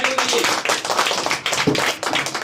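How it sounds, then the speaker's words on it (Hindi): A class of children clapping their hands at an oral history quiz, a close, dense patter of many small hands with uneven bursts. "जरा जोर से ताली बजाओ उनके वास्ते"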